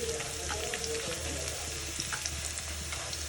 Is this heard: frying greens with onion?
yes